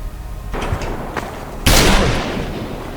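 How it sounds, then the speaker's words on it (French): Gunfire in the video game Wasteland, several booming shots including one loud blast near the end over a constant rumbling background, no talk. "Ça tire, ça tire, ça tire."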